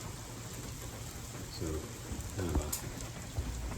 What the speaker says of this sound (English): it's kind of drizzly, rainy,